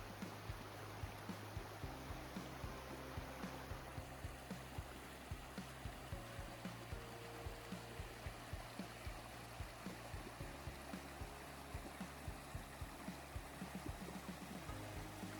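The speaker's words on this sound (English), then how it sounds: "Up here in North Carolina, these beautiful streams are actually called creeks." A cold mountain creek in North Carolina woods flows with a faint, steady rush and trickle, with no voices.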